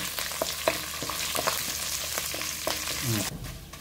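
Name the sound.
spices added to hot oil frying for moringa stir fry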